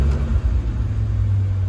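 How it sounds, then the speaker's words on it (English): A 2006 Bentley Continental Flying Spur with its 6.0-litre W12 sits running after start-up, giving a close, steady low rumble that holds even throughout, with no voices over it. "Starts up nice and easy, sounds good."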